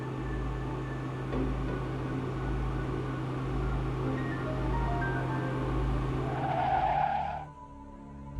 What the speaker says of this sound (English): I heard a car approach